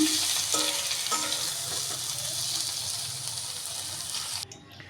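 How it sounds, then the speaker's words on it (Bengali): Pointed gourd (potol) slices fry in a pan with a loud, steady, close sizzle that holds evenly before cutting off abruptly near the end. "এই যে দেখুন আমি পটলগুলো খুব সুন্দর করে ভেজে নিচ্ছি"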